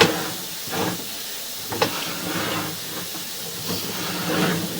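Water rushing through a clay sewer line, a hissing, gurgling flow with a few surges and knocks, close and fairly loud.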